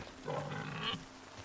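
Pigs in the video game Nightingale give a short burst of low grunts and squeals, heard faintly and alone.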